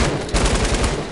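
Rapid gunfire from the Fortnite video game crackles loudly in quick successive bursts, close and dense for a second with no talking.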